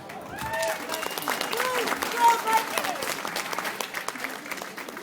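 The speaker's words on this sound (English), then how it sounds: "Put a round of applause for this guy here" A crowd at an Idle No More gathering gives a round of applause for a man named Mikey, clapping and cheering beneath voices that carry on through the burst.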